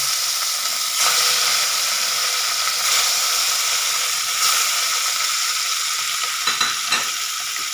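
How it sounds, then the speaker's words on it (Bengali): Pieces of katla fish fry in hot oil with a steady, bright sizzle, punctuated by a few soft stirring knocks near the end. "এবার মাছগুলোকে একটু লাল করে ভেজে নেব"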